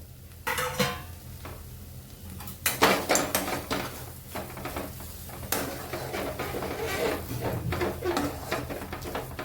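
A lid comes off a pan of spiced pea and potato paratha filling with a clanking metal clatter, followed by close scraping and stirring of the pan and a faint sizzle.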